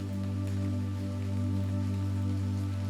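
Steady rain patters against a window in a cozy bakery, a soft continuous wash of drops under a low constant hum, with no voices.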